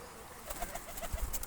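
Quiet, low pigeon coos repeating in a short series of soft calls, with faint background noise.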